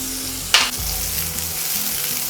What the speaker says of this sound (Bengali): তেল গরম হয়ে যাওয়া মাত্রই ফোড়নে দিয়ে দিচ্ছি গোটা জিরে, সাথে মিষ্টি ফ্লেভারের জন্য দিয়ে দিচ্ছি সামান্য একটু গোটা মৌরি, সাথে সাথে দিয়ে দিচ্ছি কাঁচা লঙ্কা কুচি